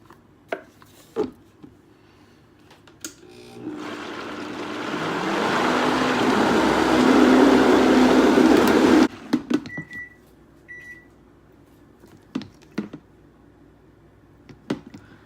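A high-powered blender blending oil-free vegan marinara sauce: a loud, steady whir rising over about five seconds, then cutting off abruptly, with clicks and handling knocks around it and no talking.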